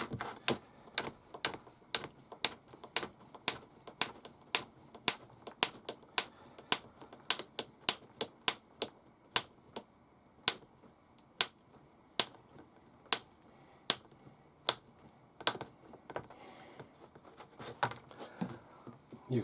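Screws being driven into plastic parts of a King Kong RC Q157 4x4 mud monster kit, producing a long series of sharp, evenly spaced clicking ticks, close and fairly loud with little else around.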